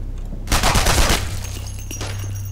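A loud burst of gunfire from the video game Operation Thunderstorm crackles for about half a second, then fades into a low hum with a faint later shot.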